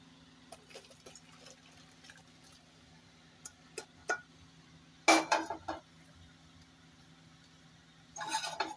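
Boiled vegetables are tipped out of a pot in a quiet kitchen: scattered light metallic clinks, then short bursts of splashing and clattering as the contents pour out.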